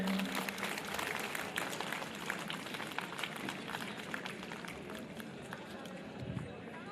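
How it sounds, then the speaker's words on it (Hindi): Crowd applause at a medical college's 77th Republic Day ceremony in Azamgarh, a steady dense wash of many hands clapping throughout, with some voices mixed in. "तालियां बजती रहे।"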